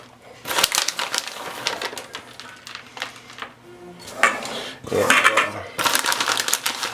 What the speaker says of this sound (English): I'm going to sprinkle about half a cup of pecans in each one.